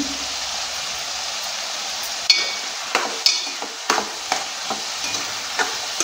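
Finely chopped tomatoes go into a small-fish and cucumber curry frying in a pan, with a steady close sizzle and a run of sharp spoon taps and scrapes as it is stirred.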